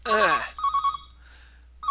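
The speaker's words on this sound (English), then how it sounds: "alarm rings noise. Oh, it's an alarm. I will. That sounds like a phone." An alarm in the video game Seinarukana rings like a telephone, with a loud warbling burst followed by a few short repeated rings and another ring starting at the end.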